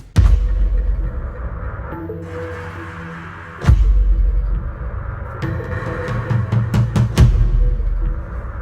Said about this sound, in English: In addition to these toms from the Bluebird kit,